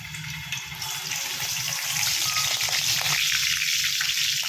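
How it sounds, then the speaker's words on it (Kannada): Curry leaves dropped into hot oil for a raw banana dry fry crackle and sizzle loudly and close, a dense continuous spatter that grows stronger over a few seconds. "ಈಗ ಕರ್ಬೇವಿನ ಸೊಪ್ಪು ಹಾಕ್ತಾ ಇದ್ದೀನಿ"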